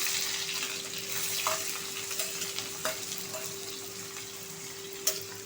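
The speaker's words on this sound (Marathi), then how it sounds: "हा छान असा कांदा गुलाबी करून घ्यायचा आहे, लाईट ब्राऊन असा।" Chopped onion and green chillies fry in a cumin tadka for dhaba-style dal palak, giving a steady close sizzle with a few sharp spoon scrapes and clicks against the pan.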